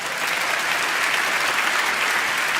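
Steady, loud applause from an audience at a Persian children's storytelling event, sustained without a break across the whole stretch with no voices on top.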